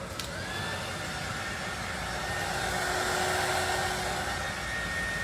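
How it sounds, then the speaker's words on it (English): A heat gun blows steadily over a glitter-coated tumbler, a constant close whooshing drone with a faint whine that holds evenly from start to finish. "Then I'm gonna go in with the heat gun."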